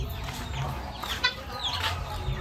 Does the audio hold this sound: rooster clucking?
yes